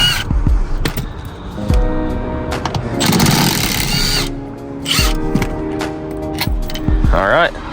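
Power tool with a 14mm socket spinning out seat bolts on a Lexus IS300, in loud close bursts of whirring and ratcheting with short gaps between them.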